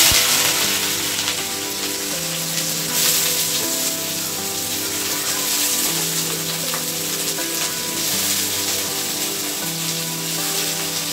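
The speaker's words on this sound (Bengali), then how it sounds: "চলো আগে সবজিগুলোকে ভেজে নিই।" Vegetables fry in a pan for chow mein, a steady dense sizzle that stays loud and even throughout, close up with no talking.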